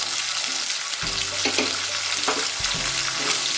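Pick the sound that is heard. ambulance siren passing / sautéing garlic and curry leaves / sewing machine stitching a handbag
sautéing garlic and curry leaves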